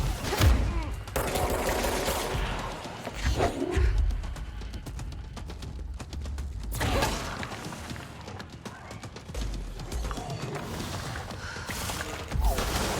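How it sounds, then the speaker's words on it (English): Gunfire in the video game Control comes as dense, overlapping bursts of shots and mechanical clatter that stay loud and busy throughout, with a brief lull midway and a voice speaking now and then. "Who's shooting me?"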